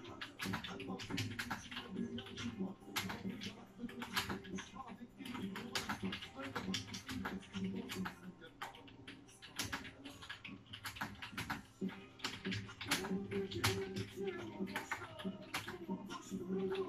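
Rapid irregular clatter of typing on a computer keyboard with some faulty keys, steady and fairly close throughout, with a voice talking underneath.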